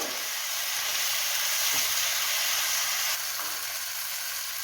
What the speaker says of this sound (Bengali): এবার টমেটো পেস্টটা অ্যাড করব। ভালো করে নাড়াচাড়া করব।